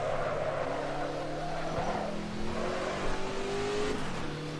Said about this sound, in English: this will be literally me just emptying the tank in the Ford GT40 here in the Assetto Corsa